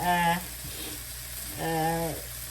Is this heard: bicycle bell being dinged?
no